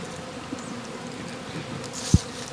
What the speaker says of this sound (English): we can see the bees inside running around